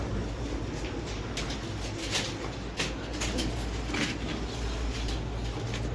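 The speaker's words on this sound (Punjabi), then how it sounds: "ਇਹ ਵੱਡੇ ਕਬੂਤਰ" Large pigeons coo steadily nearby, their soft repeated calls layered over faint background hiss, with no talking.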